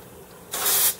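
Airbrush spraying pink paint onto a spinnerbait lure: a loud, close airy hiss bursts in halfway through and holds steady before briefly cutting out and restarting at the very end, with only faint room noise beforehand.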